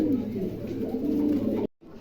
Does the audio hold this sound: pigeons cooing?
yes